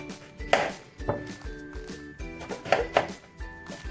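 A knife trims small eggplants on a cutting board for a salad, giving a few sharp chops and scraping taps spaced irregularly, close and moderately loud, with light kitchen clatter and no talk.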